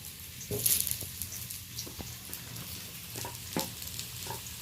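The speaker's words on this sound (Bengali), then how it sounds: "আলুটা আগে ভেজে নেওয়ার জন্য কড়াইতে তুলে দিচ্ছি।" Potatoes fry in hot oil in a wok with a quiet, steady sizzle, joined by a few soft scrapes and clinks from stirring.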